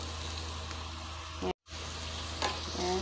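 Onion and garlic sautéing in a pan for corned beef, a steady close sizzle with stirring scrapes, briefly cutting out to silence before resuming, and a faint voice in the background.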